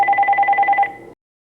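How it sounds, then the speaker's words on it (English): A telephone rings loud and close in a steady warbling burst of rapid repeated pulses, cutting off abruptly after about a second, with no voices. "Wait for the phone."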